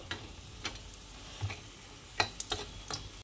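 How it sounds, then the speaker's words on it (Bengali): Lentil dumplings (bori) fry in hot mustard oil, giving faint, sparse crackles and pops at uneven intervals over a quiet background. "এবার বড়িগুলোকে ভেজে নেব, একটু লাল করেই ভেজে নেব।"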